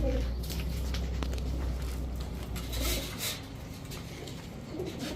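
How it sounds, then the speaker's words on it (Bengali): Giribaz high-flyer pigeons, a chua chandan male and female, shuffle and coo softly in a quiet setting, with faint patter and movement and no loud calls. "এই হচ্ছে চুয়া চন্দন নর এই হচ্ছে চুয়া চন্দন মাদি"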